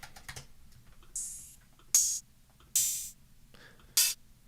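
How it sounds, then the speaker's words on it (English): A computer keyboard is typed on while searching sample categories in music production software. A few sparse, separated keystrokes sound close and quiet, with no talking. "I'll just type in the word open."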